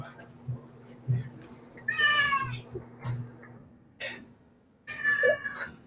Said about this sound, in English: Cat, I'm warning you.